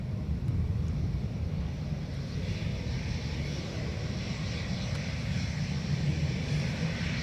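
A jet takes off from Dublin Airport, a broad low roar rumbling steadily from some distance, with no voices.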